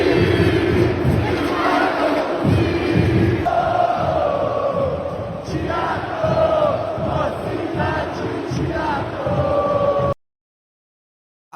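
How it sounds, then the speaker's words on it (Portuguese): Vasco football fans chant and sing together in a stadium, a dense, loud crowd roar with rising and falling voices before it cuts off abruptly. "Olha a torcida do Vasco apanhando de 5-1"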